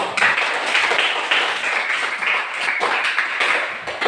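A classroom group claps for fellow students, a dense, even round of applause from many hands that carries on steadily throughout.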